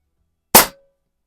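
A single sharp shot from a Pinty Striker .25 caliber bullpup airgun, a short loud crack that decays quickly into silence.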